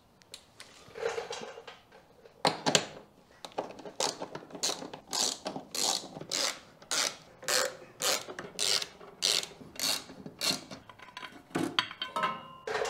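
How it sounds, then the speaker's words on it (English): Hand ratchet loosening 13 mm bolts on a BMW M3 Competition transmission carrier: a run of rapid, regular clicking strokes, close and crisp, picking up pace after some scattered initial turns. "now we're gonna loosen all these 13 millimeter bolts"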